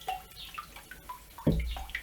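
Distilled water splashes and trickles while a vise cover is rinsed, light watery patter with a louder gush near the end, close by and without talk.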